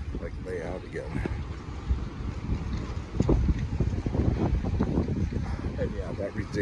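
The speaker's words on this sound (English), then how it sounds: "it's kind of windy" Wind buffets the microphone at Santa Monica Beach, a rough, gusty rumble that swells and grows louder in the second half, with a person talking over it.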